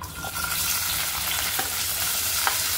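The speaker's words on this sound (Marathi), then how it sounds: "आता आपण पहिले शिमला मिरची टाकूया," Bell peppers sizzle steadily in a pan for a paneer tikka masala curry, a continuous close frying hiss with a few faint stirring clicks.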